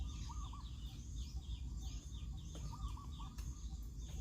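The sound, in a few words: wild spotted dove cooing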